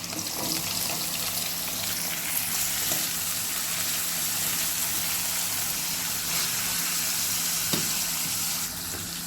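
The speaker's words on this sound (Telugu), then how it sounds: "వీటిని కొద్ది కొద్దిగా వేసుకొని ఫ్రై చేయాలి" Jackfruit pieces fry in oil in a small batch, making a loud, continuous close-up sizzle with bubbling crackle and a few faint scrapes throughout.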